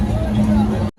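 Crowd hubbub at the Sarangkheda fair, where a horse market is running, caught from a passing vehicle along the roadside as a dense murmur of voices with a steady hum underneath, cut off abruptly at the end.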